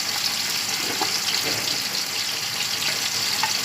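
Chopped onions fry in a pan for a vegetable pulao, giving a steady, close, dense sizzle that holds at an even level throughout, with no voices over it.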